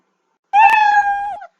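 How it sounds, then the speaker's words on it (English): A single clear cat meow sound effect in a Scratch program after a countdown, about a second long, bright and close, with silence before it. "there's that meow"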